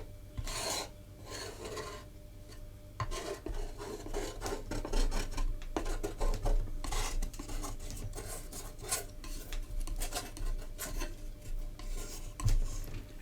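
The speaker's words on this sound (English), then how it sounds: "Try some different effects with the palette knife." A palette knife scrapes paint across canvas in a series of close, raspy strokes, each a short gritty sweep, with quiet gaps between them and no talking.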